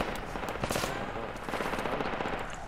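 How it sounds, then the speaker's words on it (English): Machine gun fire in the military shooter game Project Reality, rapid bursts of rattling shots at moderate distance, dense and continuous over a rumbling background. "machine gun shooting"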